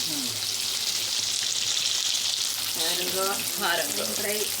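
Masala fish fries in a pan after being turned over, a dense steady sizzle close by with faint background talk and music-like tones partly under it.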